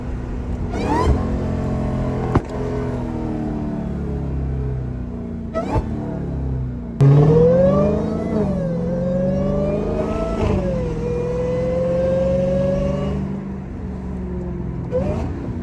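A Dodge Hellcat drives through city streets, its engine rumbling close, then revving hard with rising and falling pitch as it accelerates through the gears.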